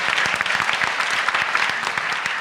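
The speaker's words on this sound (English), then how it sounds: "a big round of applause for Matt Wade and Sandra who make this possible" A crowd claps steadily and loudly at an entrepreneurship pitch competition, a dense continuous round of applause throughout.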